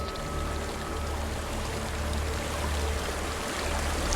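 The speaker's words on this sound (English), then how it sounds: "There's a waterfall." Steady rushing water from a waterfall in the video game Hellblade: Senua's Sacrifice, a continuous broadband roar with a low rumble, constant and fairly loud throughout with no talking.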